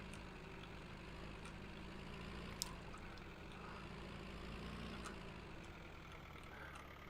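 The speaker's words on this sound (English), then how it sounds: "it's hard to tell, it's just a tractor" Tractor engine idling in a farming video game, a steady low rumble that runs the whole time, fairly quiet with no talk.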